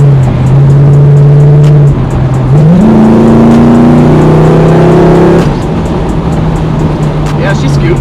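Pro-touring 1966 Chevelle with a 350 V8 revving hard and spinning its tires, a loud, close, sustained engine roar climbing through rising pitch steps before settling back to a steady high drone.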